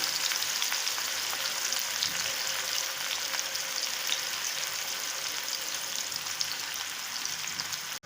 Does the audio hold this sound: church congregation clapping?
no